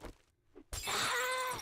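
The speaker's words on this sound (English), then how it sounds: "she heard me break the glass" Glass shatters in a video game, a sudden loud crash that breaks out after a quiet stretch with a couple of small thuds, then rings on with bright, scattering shards.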